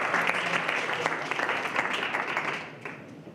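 Audience applause at a business panel discussion in Gauteng, a steady wash of clapping from a crowd that holds for about two and a half seconds and then tapers off.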